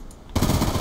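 Burst of automatic gunfire in the video game Black Ops 2, erupting abruptly after a quiet moment and continuing as a dense, loud rattle to the end.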